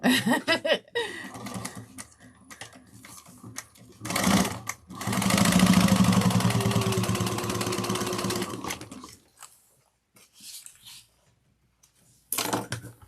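A sewing machine stitches lining sides of a train case together in a long steady whirring run, preceded by shorter bursts and a brief start, with pauses of near silence between.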